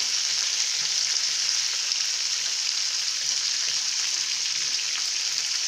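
Peas, beans and carrots frying in a pan, a loud, dense, unbroken sizzle heard up close with no talking.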